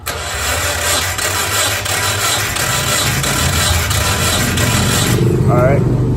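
A Mazda Miata engine, long stored in a storage unit, cranks steadily on the starter during a compression test on cylinder 4, its loud rhythmic churning continuing unbroken, with a voice talking briefly near the end.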